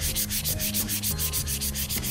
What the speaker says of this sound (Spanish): ahora sí decimos que pasamos a lijar